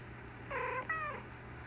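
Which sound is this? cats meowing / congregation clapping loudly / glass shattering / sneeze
cats meowing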